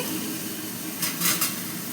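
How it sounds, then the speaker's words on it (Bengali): Ginger-garlic paste frying in a pan, a steady broad sizzle throughout with a brief scraping stir near the middle, close and fairly loud, no talking. "আদা রসুন বাটাটা দিয়ে দিলাম আদা রসুনের কাঁচা গন্ধটা চলে গেছে ভাজা হয়ে গেছে"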